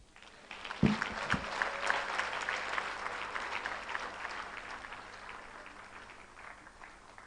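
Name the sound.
audience applause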